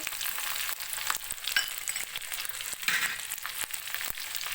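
Paste with salt, chilli powder and spices frying in oil for tomato rice, a steady bright sizzle with scattered clicks and scrapes of stirring throughout, no voices.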